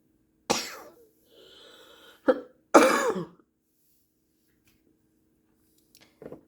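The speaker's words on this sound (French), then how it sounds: "Pardon pour la toux." A few separate close coughs and a throaty clearing, spaced out with quiet gaps and a soft hum in between.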